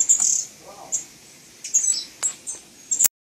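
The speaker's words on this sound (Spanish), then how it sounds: "Vamos a ver cómo están los pichoncitos de gorrión." Sparrow chicks in an aviary give short, high chirps in scattered bursts, close and fairly clear against a quiet background.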